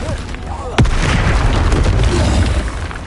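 A Confringo spell explodes in Hogwarts Legacy, a sharp, loud blast that hits suddenly and trails into a rumbling roar lasting a few seconds.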